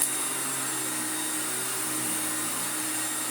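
An Electrolux Glider upright vacuum cleaner runs continuously on carpet at a steady, loud whine with a constant airy roar, close by.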